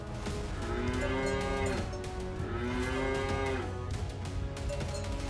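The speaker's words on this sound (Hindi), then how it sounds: "श्रृंगा से गाय के रंभाने की आवाज़ आया" A cow moos loudly several times, long drawn-out lowing calls close by, separated by short pauses over a constant low background hum.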